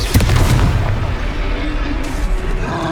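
A Confringo fire blast spell explodes in the Hogwarts Legacy video game, a loud, booming burst that rolls into a sustained rumbling roar, close and dense, with no speech.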